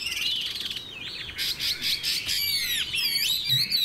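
A Chinese hwamei songbird sings alone and close, pouring out varied whistled phrases, rapid trills and swooping notes in continuous bursts with short breaks, bright and clear over a quiet background.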